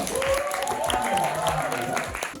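A studio audience claps in a steady burst of applause that runs throughout, with voices talking over it.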